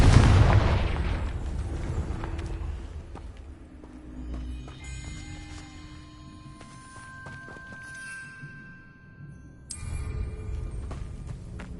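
A Confringo blasting curse explodes in Hogwarts Legacy, a loud booming blast at the start that rumbles away, followed by scattered magical chimes, tones and effects.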